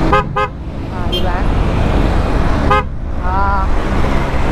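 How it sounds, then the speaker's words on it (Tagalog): Two short Honda ADV motorcycle horn toots near the start, then another sharp honk partway through, loud and close over a steady engine rumble. "maganda naman yung horn. Malakas."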